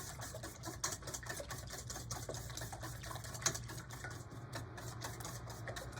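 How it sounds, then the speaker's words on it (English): Eggs are whisked for breakfast burritos, with a fork or whisk clicking rapidly and evenly against the bowl for several seconds, fairly quiet and close. "Whisk them until they're well mixed."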